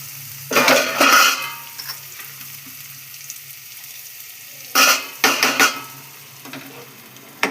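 Finely chopped onions frying in hot oil in a pan, two loud bursts of sizzling and stirring scrapes separated by a quieter steady background sizzle, close up with no talking.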